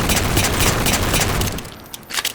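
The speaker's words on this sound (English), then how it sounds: "This pistol, the Halo 4 pistol, is a bit like the Halo 1 and the Halo Reach pistol combined." Rapid repeated shots from the Halo 4 pistol in the Halo 4 video game, loud sharp cracks packed in a quick burst, then quieter with a few last scattered shots.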